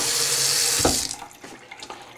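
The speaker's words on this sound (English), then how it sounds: "pour the water over the soap, get some froth" Warm tap water pours over soap into a sink, a loud steady gush that cuts off at about one second, followed by a few soft splashes and drips.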